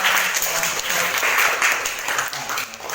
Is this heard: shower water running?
no